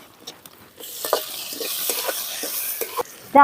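Spinach leaves with tomato and asafoetida stirred and fried in a pan, a steady close sizzle broken by repeated scraping strokes of a spoon, with a sharper clatter at the end.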